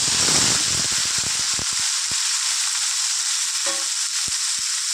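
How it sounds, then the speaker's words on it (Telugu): Tomatoes and green chillies sizzle and fry in a pan, a loud close continuous hiss with scattered pops and crackles, no voices. "వేసుకొని ఇది మంచిగా ఫ్రై కావాలి."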